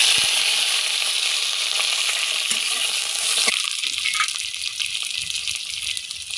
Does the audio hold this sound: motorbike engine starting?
no